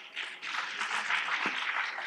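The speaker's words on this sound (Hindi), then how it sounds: "किसानों के लिए जोरदार तालियां बजाते हैं" Steady applause from a political rally crowd, a dense wash of many hands clapping continuously for about two seconds with no voices on top.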